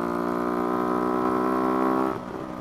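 A motorcycle engine runs steadily and loud up close on a first proper ride, holding a strong harmonic drone that drops in pitch near the end as the revs ease off.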